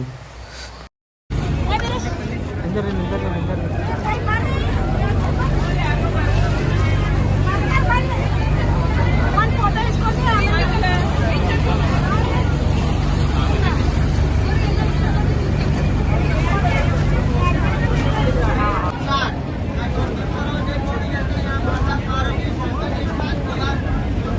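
A steady low engine drone of a motorboat on the river at the ghats of Kashi (Varanasi) runs throughout, with crowd chatter and voices talking over it.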